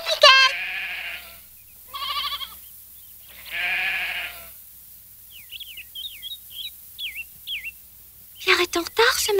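Several goats bleat in quavering calls, separated by pauses, followed by a string of small chirping bird calls and a final burst of louder bleats.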